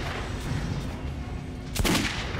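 A burst of gunfire from a rifle or shotgun at a Metro: Last Light firing range, with a single sharp shot cracking out near the end over a low rumbling background.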